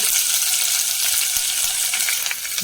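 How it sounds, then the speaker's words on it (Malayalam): Ginger, green chilli, chopped onion and curry leaves fry in hot oil for upma made from ration raw rice, giving a steady, close sizzle that carries on alone the whole time. "ഇഞ്ചി, പച്ചമുളക്, ഒരു സബോള അരിഞ്ഞത്, കറിവേപ്പില ഇതും കൂടി ഇട്ട് കൊടുക്കാം"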